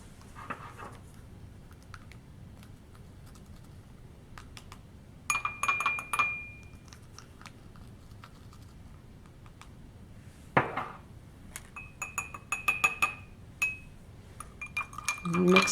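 A spoon clinks and rattles against drinking glasses while baking soda is stirred into water, with bursts of close, bright tapping separated by quieter pauses.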